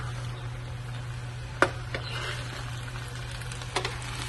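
Vegetable fried rice with ghee is stir-fried in a pan, a gentle continuous sizzle with a couple of sharp utensil knocks, close, over a steady low hum.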